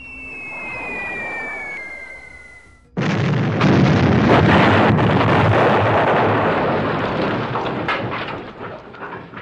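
A B-17 Flying Fortress drops its bomb load: a falling whistle fades out, then a sudden loud roaring blast of explosions follows and rumbles on continuously before slowly tapering off.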